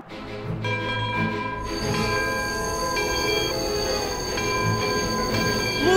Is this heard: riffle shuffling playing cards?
no